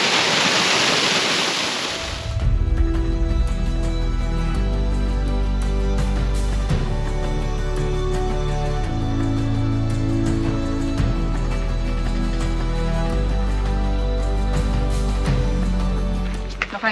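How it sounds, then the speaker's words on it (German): A four-metre waterfall in a chalk cliff gorge on Rügen rushes with a loud, broad hiss for about two seconds before sustained music takes over and covers it. "Da ist der Wasserfall."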